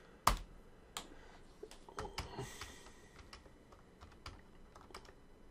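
Someone types on a computer keyboard while entering spreadsheet figures: scattered, irregular key clicks, close and fairly quiet, with one sharper tap near the start and brief pauses between bursts.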